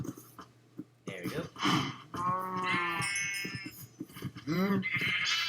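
Several Minecraft sheep bleat in turn, with overlapping wavering cries close together that are fairly loud, mixed with light clicks and a low background hum.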